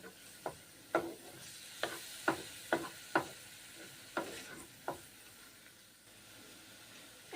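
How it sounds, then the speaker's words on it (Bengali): Chhana curry with black pepper and butter being stirred in a pan, a string of distinct spatula scrapes and taps over a faint sizzle, close but quiet, spaced irregularly, no talk. "গোলমরিচের গুঁড়ো দিয়েছি, তারপরে নেড়ে চেড়ে কুক করে নিচ্ছি।"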